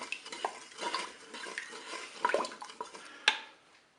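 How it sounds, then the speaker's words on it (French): Soy panna cotta mixture boils in a Cookeo multicooker pot while a utensil stirs it, with soft bubbling, repeated light scrapes and clinks against the metal, and one sharper knock near the end. "je vais maintenir l'ébullition pendant 2 minutes. Et je remue pendant ces 2 minutes"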